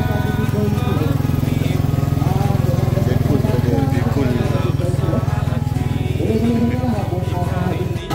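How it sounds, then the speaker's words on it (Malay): A motorcycle engine drones loud and steady as it rides through a crowded morning market, a continuous close rumble with people talking over it. "Tengok dalam kepadatan ni akan muncul seseorang, iaitu pakcik naik motor."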